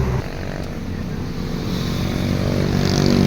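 Toyota Camry with an automatic transmission, engine idling while waiting for drive to engage, a steady low rumbling drone that rises slightly toward the end.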